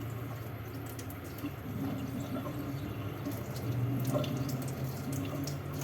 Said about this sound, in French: c'est chiant de remplir une cuillère à café quand il y a l'eau qui coule